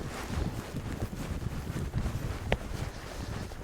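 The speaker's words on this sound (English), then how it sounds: "But reasonably strong wind" Strong wind buffets the microphone at a wet grassy paramotor takeoff field, a steady broadband rumble and roar lasting throughout with one brief sharper gust or knock near the middle.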